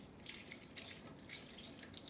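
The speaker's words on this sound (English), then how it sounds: "I like to do this under running water" Tap water runs steadily into a kitchen sink while hard-boiled eggs are peeled under it, a continuous faint hiss and splash with small irregular droplet spatters and no voices.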